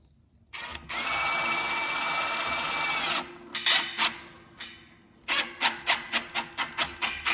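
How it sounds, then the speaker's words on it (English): A power drill drives screws into wood in a pole barn: a long steady whir of nearly three seconds, a few shorter revs, then a rapid series of brief trigger bursts, loud and close. "We're just gonna put some screws in here."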